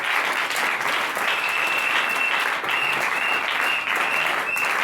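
A church congregation bursts into loud, sustained applause, dense clapping filling the room steadily throughout, with a sharp whistle or high cry rising over it and some voices mixed in.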